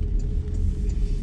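2021 Porsche Macan S SUV accelerating, heard from inside the cabin as a brief steady low engine rumble with road noise, no voices.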